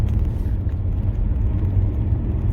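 Jaguar XJ8 X350 V8 luxury saloon heard from inside as it speeds up onto the motorway, a loud, dense low engine and road rumble, steady and unbroken, with no voices.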